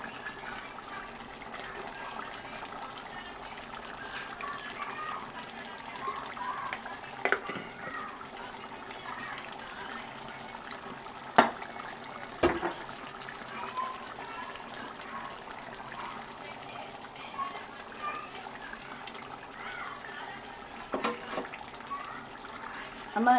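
Water poured into a pot of farm chicken curry after pressure cooking, a steady, moderately loud trickling and splashing with a few sharp clicks of utensils, continuing for the whole stretch.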